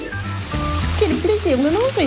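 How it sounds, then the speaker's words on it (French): Food sizzles and fries loudly and steadily throughout, with a broad crackling hiss, while a high, sing-song voice talks excitedly over it. "Ce n'est pas seulement vraiment très bruyant, mais c'est vraiment grésillant."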